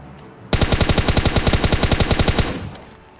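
A loud, rapid burst of automatic gunfire in the video game PUBG Mobile, about twenty evenly spaced shots over two seconds, ending abruptly with a brief echoing tail.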